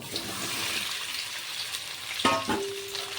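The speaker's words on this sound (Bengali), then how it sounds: "ঢেলে দিলাম ভেন্ডিগুলো এবার ভেন্ডিগুলোকে অল্প ভাজা ভাজা করে তুলে নেব" Okra dropped into hot mustard oil fries with a steady sizzle that flares louder near the end as the pieces hit the pan, with no voices.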